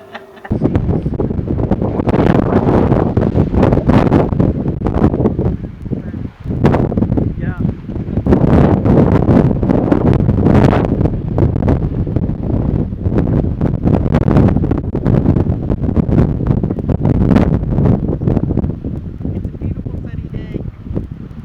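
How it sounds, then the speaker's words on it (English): Strong wind on a cruise ship's deck at sea roars across the microphone in heavy continuous gusts, buffeting and rumbling without letup. "Too windy."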